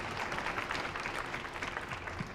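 Applause from parents in a high school choir concert audience, a steady, fairly faint patter of clapping from a modest crowd heard at a distance.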